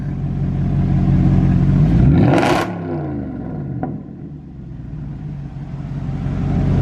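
A cheap exotic car bought at a salvage auction, its engine revved hard once, the roar swelling over a couple of seconds before falling back to a loud, steady idle rumble, close by.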